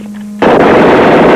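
A sudden burst of automatic weapon gunfire in a sci-fi film erupts after a brief quiet hum, loud and sustained, with dense continuous rattling to the end.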